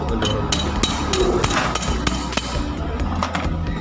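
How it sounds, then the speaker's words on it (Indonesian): Rubber mallet repeatedly knocking on a seized part of a Honda Beat scooter engine during teardown, sharp irregular thuds at uneven intervals over a noisy workshop background. "Kita gunakan palu karet aja ya untuk membukanya, untuk mendorong."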